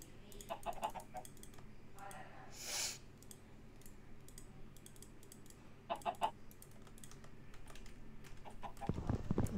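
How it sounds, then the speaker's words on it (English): Chickens in a Minecraft UHC match cluck in short, faint bursts scattered through a quiet stretch, along with keyboard clicking and a few soft game sounds. "There is chickens here, which is okay."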